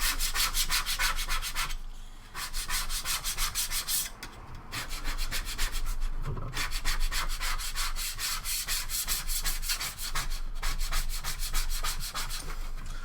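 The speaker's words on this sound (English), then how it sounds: "then I'm going to give it a scrape" A scraper rubs back and forth across a surface in quick, rhythmic strokes, loud and close, with only brief pauses between runs.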